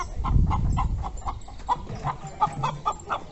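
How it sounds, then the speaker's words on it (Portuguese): A farmyard hen cackling after laying an egg, a rhythmic run of sharp, repeated clucks close by, with a louder low rumble at the start and no talk. "A galinha deve ter botado, porque tá cantarolando ali."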